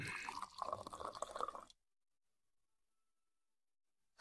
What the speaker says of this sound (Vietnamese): Lưu Dương mau đi rót rượu cho mộ dung tướng quân.